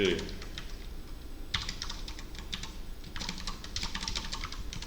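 Code being typed on a computer keyboard in rapid bursts of close, crisp keystrokes, pausing briefly between runs, with a faint low background hum.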